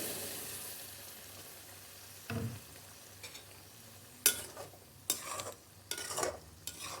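Prepared paste goes into a pan of potato karahi, which hisses with a faint, steady sizzle before a spoon stirs it in several loud scraping bursts over the last few seconds.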